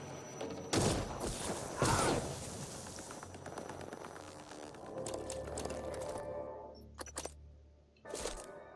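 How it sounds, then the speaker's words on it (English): A recycler charge detonates in the video game Prey, a loud burst of rumbling, crackling explosion with heavy thumps, fading into a lingering hum and followed by a few sharper impacts. "we'll use our last recycler charge"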